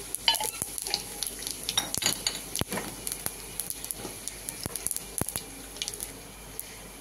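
Oil crackles and sizzles steadily in a pan as five-spice seeds fry, with sharp pops and spatters scattered throughout and no talking.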